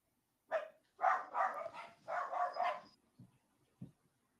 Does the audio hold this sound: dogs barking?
yes